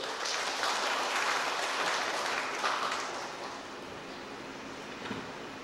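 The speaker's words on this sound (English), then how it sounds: "Let us give ourselves once again a big round of applause." Applause from a congregation at a thanksgiving Mass for a 74th founding anniversary, a steady wash of clapping that fills the room and then tapers slightly toward the end, with no talking.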